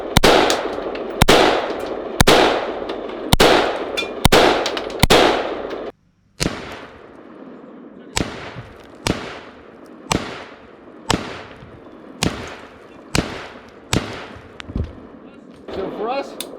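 An AR-15 rifle fires at wood, concrete and steel targets outdoors, a loud, evenly spaced series of sharp shots, each followed by a decaying echo, with a brief silent gap partway through.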